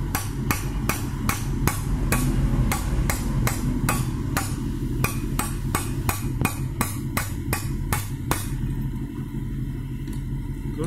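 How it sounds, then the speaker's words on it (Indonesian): Hammer blows striking to knock out the fuel injector nozzles on a Kijang 2L diesel engine, about twenty sharp metallic hits in a fairly regular rhythm over a low engine-bay rumble. "pukul pakai palu."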